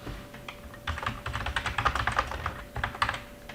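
A computer keyboard is typed on in quick, irregular bursts of fairly soft keystrokes, with a brief pause near the start before the clicking picks up and continues close by.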